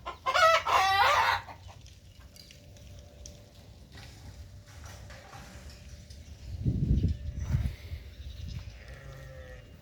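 Hens kept in a backyard coop, with a loud bird call at the start, then quiet clucks and a deeper burst of animal calls later, near and intermittent against a faint hum.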